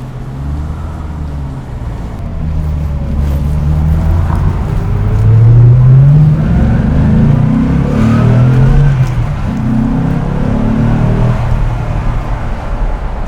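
A 1990 Corvette ZR1 driving on a city street, its engine a steady, loud low rumble from inside the cabin that swells as it picks up speed and eases off again, with no talk.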